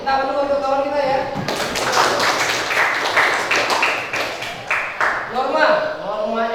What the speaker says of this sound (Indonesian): Tepuk tangan dulu untuk kawan kita ya.